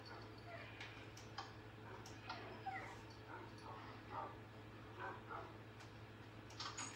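Dog whimpering in Minecraft, a string of faint high whines and yips spaced across the span over a low steady hum.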